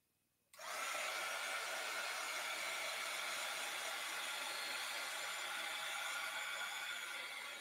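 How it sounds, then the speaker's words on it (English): A hair dryer switches on abruptly to dry paint, blowing with a steady, loud airy whoosh that continues unbroken to the end. "I'm just gonna hit this with my dryer just so I don't lift up any of this green."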